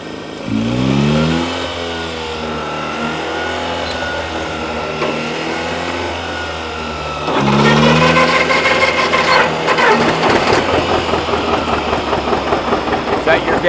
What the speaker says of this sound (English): The gasoline motor is running now, it's warming up, and it will warm the combustion chamber of the diesel motor up